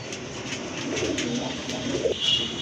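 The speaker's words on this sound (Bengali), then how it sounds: "এখানে কিন্তু এক জোড়া মুসলদম কবুতর আছে।" A pair of Muslim-tailed pigeons coo softly amid steady background noise, with faint calls rising and falling over a few seconds.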